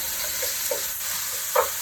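Peppers, onions and celery sizzle in a hot pan for a Cajun smothered pork dish, a steady close frying hiss with a few brief louder pops and spatters.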